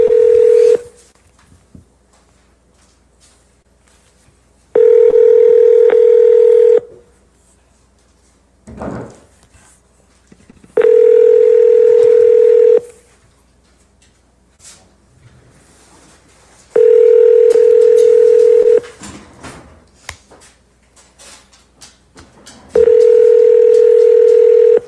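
Repeated telephone call-progress tones during wholesale real estate seller calls: steady two-second beeps recur about every six seconds, with quiet clicks and faint background noise between them.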